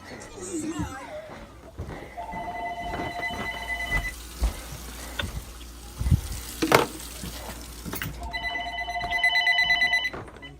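A telephone rings in repeated electronic bursts, one pattern early and another near the end, over background water and indoor noise, with people talking around it.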